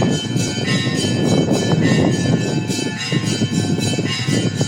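Church bells ring continuously outdoors on a feast day, a dense, loud layer of overlapping tolls with steady street ambience underneath.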